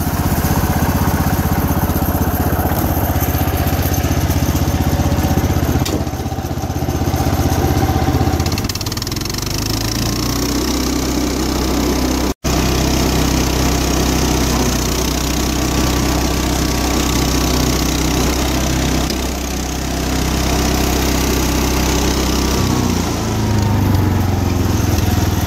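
A 712H lawn tractor with Sundstrand hydrostatic drive runs steadily and loud throughout, its engine holding a constant drone with slight dips in load and one brief dropout midway.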